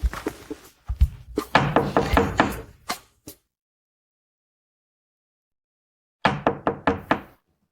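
Knocking on a door comes in several quick clustered bursts of sharp raps, then a long silence, then another short run of firm knocks, close and loud with no talk.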